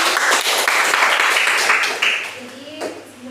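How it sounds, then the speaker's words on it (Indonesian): A classroom audience claps together at the close of a biology lesson demonstration, a dense burst of applause that fades out over a couple of seconds. "tepuk tangan untuk"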